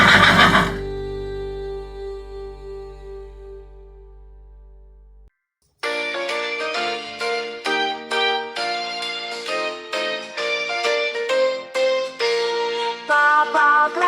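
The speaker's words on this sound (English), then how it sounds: "horse." A horse whinnies loudly and alone for about a second, its cry trailing into a fading hum, then after a pause bright music with a bouncy rhythm takes over, fitting a children's farm animal sound sequence.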